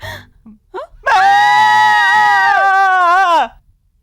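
A person screams in fright in a Hindi-dubbed South Indian action thriller, a loud sustained wail of more than two seconds that follows a few short breathy gasps.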